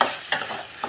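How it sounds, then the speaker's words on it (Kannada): Tomatoes fry in a pan while being stirred, with a soft sizzle under a few quick scraping stirs, close and fairly quiet, with no voices. "ಇವಾಗ ಇದಕ್ಕೆ ಟೊಮೊಟೊ ಚೆನ್ನಾಗಿ ಫ್ರೈ ಆಗಿದೆ."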